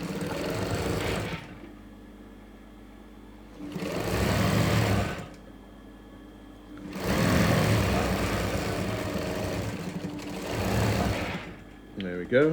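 A sewing machine runs a seam allowance on a hand puppet in three bursts of fast needle whirring separated by quiet pauses, fairly close and loud, with faint talk.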